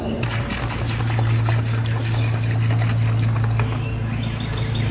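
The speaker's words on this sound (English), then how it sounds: "Spray the sealer on it." Low-pressure pump sprayer applying sealer to an old patio, a steady close hiss of spray with a low hum underneath, continuous and alone.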